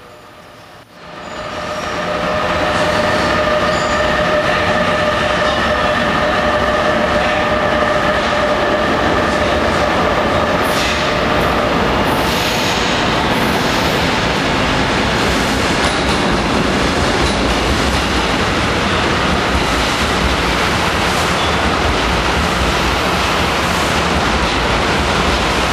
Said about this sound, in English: Arriving perfectly on time is ACES train